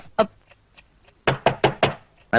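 Someone knocks on a door: a single rap, a few faint taps, then a firm run of four evenly spaced knocks and one more, close and sharp.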